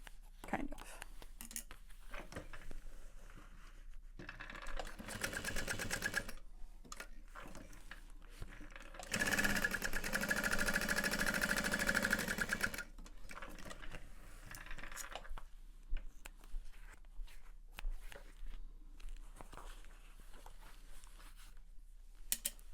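A sewing machine stitches the panels of a Charyn handbag in two short runs, the second longer and steadier, among quiet handling clicks and rustles, with someone speaking softly in between.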